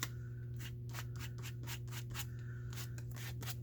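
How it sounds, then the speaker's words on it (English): A card rubs back and forth over a glued paper napkin in a journal, giving a series of soft, rhythmic scraping strokes, close and fairly quiet over a steady background hum. "you just get a more burnished napkin if you use the card"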